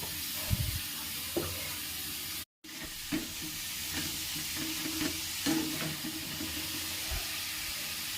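Mushrooms frying in spice masala in a pan give a soft, steady sizzle with a few clinks and stirring scrapes. The sound is fairly quiet and close, broken once by a brief cut.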